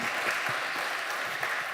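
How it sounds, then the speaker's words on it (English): A short burst of audience applause for keynote speakers in a conference main auditorium, dense even clapping at moderate volume, brief and continuous. "Give them a huge applause."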